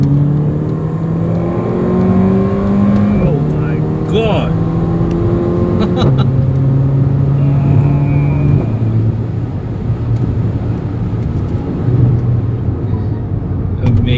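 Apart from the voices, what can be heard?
Mercedes-AMG GLA 45 engine revving while driven hard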